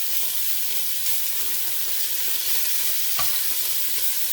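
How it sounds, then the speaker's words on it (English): Steady, loud sizzling of chicken frying in a hot pot, a continuous hiss close up with an occasional faint clink. "Okay, you can hear that sizzle."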